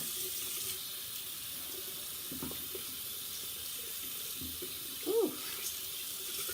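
Tap water runs steadily into a sink while makeup brushes are scrubbed, a constant hiss with a brief splashy burst near the end and a short exclamation from a voice.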